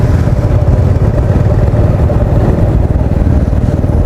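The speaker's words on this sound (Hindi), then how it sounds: "ये हमारी 5 बाइक से जा रही है, एक लाइन से बोला है इनको ग्रुप में चलने के लिए" Five motorcycles riding in a group at night on a dark mountain road between Sonprayag and Ukhimath, a loud steady engine drone with low rumbling and wind-like roar, constant throughout with no speech.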